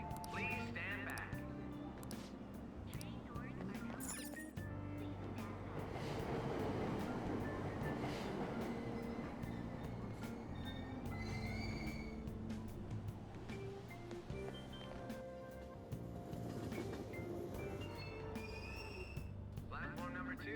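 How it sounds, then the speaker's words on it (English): A train pulls in and waits at a station platform in the video game Persona 5 Royal, its rumble and rattling running continuously beneath automated platform announcements. "Train doors are now closing. Please stand back."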